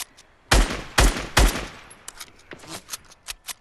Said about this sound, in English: I'm getting shot at right now from people away from me.